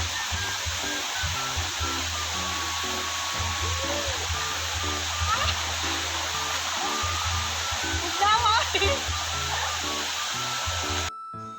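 Busay falls, a small waterfall at Langan in Sta. Cruz, pours in a steady, loud rush of water. The broadband hiss runs the whole time, with a few faint voices and birds over it.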